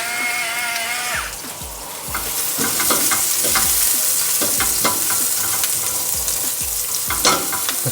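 Garlic sizzles in olive oil in a pan, a loud bright crackle with repeated scraping stirs, following a short metallic clink at the start.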